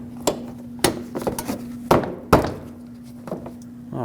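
A Lexus IS250 front bumper cover is pressed into the bracket below the fender, giving a series of sharp plastic thunks and clicks, several separate knocks over a few seconds against a faint steady hum.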